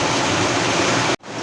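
Heavy rain falls outside as a thick, steady wash of noise, loud and even, broken by one sudden brief dropout near the end before the downpour resumes.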